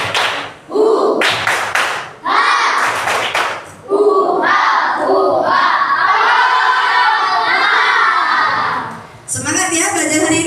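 Schoolchildren in a classroom doing the tepuk rimba clapping chant, loud close bursts of rhythmic claps mixed with shouted, sung voices, then sustained group chanting before a final burst of voices and claps.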